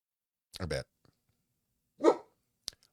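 A dog barks a few times nearby in a quiet room, with a double bark followed by a later single bark, separated by silence.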